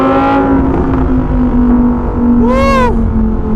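A Lamborghini Huracan EVO RWD Spyder drones loudly up close, then a sharp rising-and-falling rev blip on the downshift comes with crackling exhaust pops.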